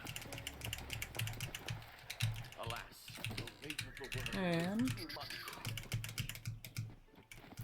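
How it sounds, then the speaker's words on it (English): Rapid clicking of a computer keyboard being typed on nearby during a Tiny Tina's Wonderlands play session, steady and continuous beneath someone talking. "you're probably gonna hear my keyboard a lot, unfortunately"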